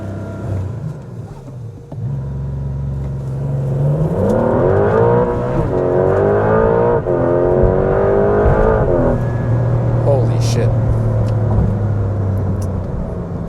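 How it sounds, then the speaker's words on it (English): A turbocharged Porsche 911 idles at a stop sign, then launches hard, its engine note climbing loudly through the revs for several seconds before easing back to a lower steady drone. "A great time to launch the car."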